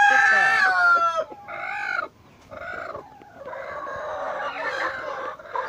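Brooding hens in a coop cluck and squawk up close, a loud harsh call followed by several shorter clucking bursts and a longer run of agitated murmuring.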